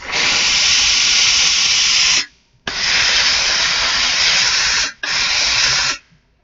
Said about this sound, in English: so I'm going to use the steam.